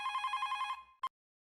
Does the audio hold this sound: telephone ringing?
yes